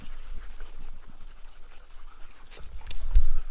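Hunting dogs panting hard on a lion trail in the desert, rapid close breaths in an uneven rhythm, growing louder near the end amid scuffling movement, with no one speaking.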